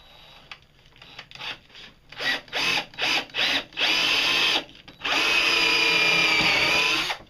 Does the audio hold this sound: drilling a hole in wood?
yes